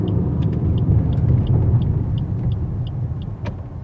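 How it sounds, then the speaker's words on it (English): A 2021 Maruti Suzuki Celerio pulling onto the road shoulder, heard from inside as a steady low engine and road rumble with faint repeated ticking, likely the indicator, and no voices. "I'm going to pull over to the shoulder."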